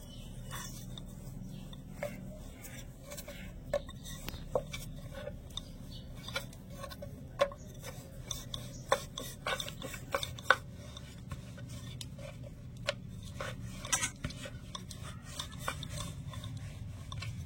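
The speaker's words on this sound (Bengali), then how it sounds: "এবারে চাটুর মধ্যে রেখে একটু বেলনি দিয়ে বেলে নেব।" Dough being rolled out with a rolling pin on a flat griddle dusted with flour, for a potato-and-flour snack: soft rasping scrapes and light repeated knocks of the pin, steady and close, with no talking.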